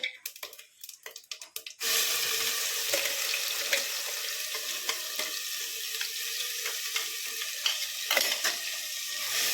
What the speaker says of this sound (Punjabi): ਆ ਮਸਾਲਾ ਜਿਹੜਾ ਪੀਸ ਹੋਇਆ ਉਹਨੂੰ ਵਿੱਚ ਪਾਓ